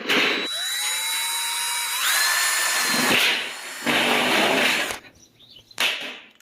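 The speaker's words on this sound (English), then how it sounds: "Just put 8 rivets in." A power tool whines with a rising pitch while fastening rivets into a metal fire pit shield, in several loud, sustained bursts with short pauses between them, close by and with no voices.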